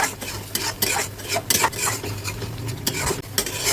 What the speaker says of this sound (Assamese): অলপ পানী দি ভাজিলোঁ মছলাটো মই।